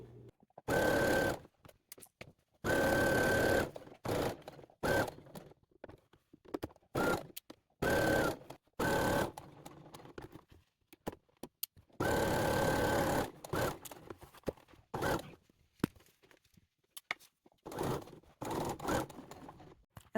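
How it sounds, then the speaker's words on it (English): A home sewing machine running a long stay stitch on a baby coat, whirring in repeated bursts of a second or two with short pauses between runs, close and steady. "I'm going to use a stay stitch, so just the longest stitch possible."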